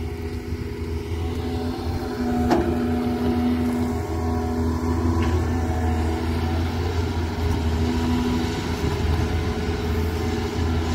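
A Doosan DX200A excavator's diesel engine runs steadily at a fairly quiet idle while clearing a palm plantation to dig a shrimp pond, giving a constant low rumble with no talk.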